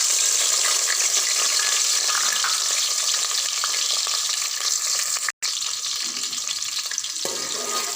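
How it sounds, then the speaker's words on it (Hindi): Chopped onions fry in ghee for beef yakhni pulao, giving a close, steady, loud sizzle that runs unbroken with a brief gap, and faint stirring scrapes toward the end. "अब मैं 5 मिनट के लिए प्याज को ब्राउन करूँगी।"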